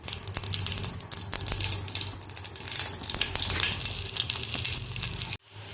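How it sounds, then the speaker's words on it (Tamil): Steady, loud crackling sizzle of mustard seeds, cumin and dried chillies frying in hot oil in a kadai, with scattered pops and sputters throughout, cutting off abruptly near the end. "இப்போ கடாய் சூடானதும் கடுகு ஜீரகம் காஞ்ச மிளகாய் தாளிச்சிக்கலாம்"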